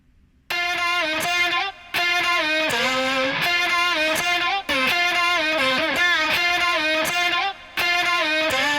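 A bright, pitched vocal chop melody plays alone in short repeating phrases, steady and loud with brief gaps between bars and a heavily processed, effected tone.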